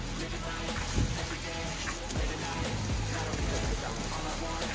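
Steady rain falls in Kinosaki Onsen, a hot spring town, as a broad hiss of drops on surfaces with occasional louder patters, continuous throughout with faint traces of voices in the background.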